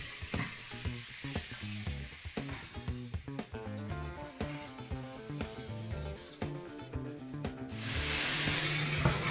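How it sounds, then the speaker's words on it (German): Beef liver sizzles loudly in a hot pan, with scraping and knocking from stirring, then a burst of louder hissing near the end. "Deswegen scharf anbraten, ab und zu mal kurz umrühren und fertig."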